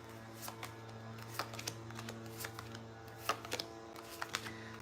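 Tarot cards are shuffled close up in a quiet room, giving soft, irregular riffling flicks and taps over a low steady hum.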